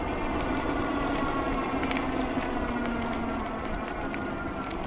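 A KBO Breeze electric bike riding on throttle alone produces a steady, loud, rushing rumble of motion and wind with a faint motor whine, continuous throughout.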